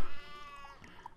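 Cat meowing in the survival game Sheltered, a single short, nasal meow heard up close and fairly loud, with a tonal, slightly bleating quality against a faint background.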